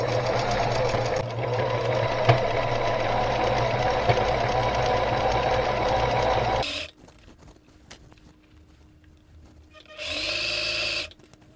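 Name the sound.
sewing machine stitching a zigzag seam on jeans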